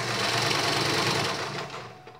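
Elgin sewing machine stitching, a fast steady close mechanical whir that eases off and stops near the end.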